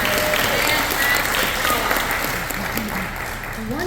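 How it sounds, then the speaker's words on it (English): An audience at Independence National Historical Park breaks into a big, sustained round of applause, dense clapping and a few cheers holding steady throughout, close and loud. "big round of applause"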